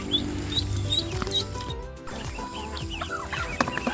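Three-week-old ducklings in a farm pen, a busy chorus of soft peeping and chirping calls overlapping close by, with light shuffling and patter throughout.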